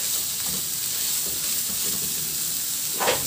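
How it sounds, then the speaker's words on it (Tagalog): Shrimp and carrots stir-fry in a hot pan, a steady loud sizzle with occasional scrapes and stirring clatter, close by and free of talk. "At pagkatapos ihalo lang din hanggang sa maluto din yung carrots at the same time maluto yung hipon."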